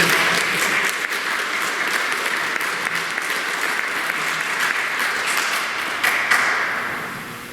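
A congregation at a Catholic mass applauds a speaker, a sustained, even round of clapping with scattered louder claps that continues to the end.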